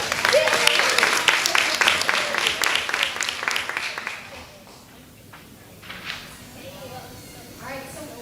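Applause at a board of education meeting awards segment: moderately loud clapping for about four seconds, then fading to scattered claps and room noise with faint voices.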